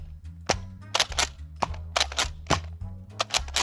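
A Nerf N Series Pinpoint blaster fires several sharp, close pops, including weak squib shots, with a low background hum between them and no voices.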